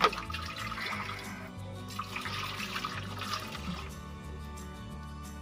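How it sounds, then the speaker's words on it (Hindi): Water runs and splashes steadily into a metal cooking pot for several seconds in a village kitchen in Pakistan, a close, continuous pouring sound with slight changes in pitch as it fills. "हाफ बोतल का आपने इसमें पानी डाल देना।"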